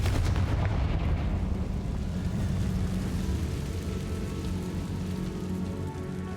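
Blasting spell in the video game Hogwarts Legacy: a loud, continuous rumbling blast that starts strong and slowly fades into a crackling roar, with no voices.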